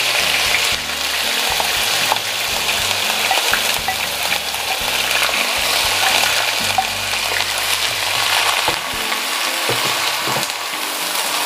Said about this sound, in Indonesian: Ini saya goreng dulu daun jeruk purut ya. Ditumis-tumis sampai aromanya wangi ya atau harum.